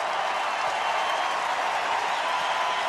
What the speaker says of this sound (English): Crowd applauding the announcement.